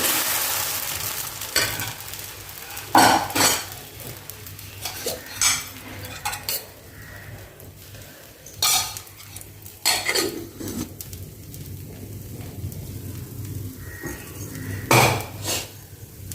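An oats dosa cooking on a pan, with a spatula scraping and tapping the metal in scattered strokes over a soft, steady sizzle, close by and with no talking.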